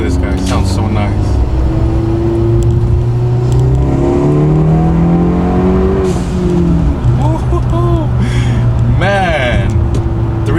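A modified Hyundai car engine revs up and down loudly, rising and falling in pitch several times, with a voice talking over it.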